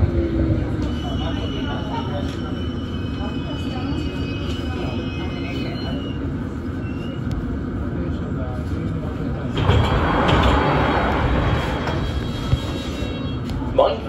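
A steady low rumble of a London Underground District line train in motion, rising to a louder roar near the end, with people talking over it.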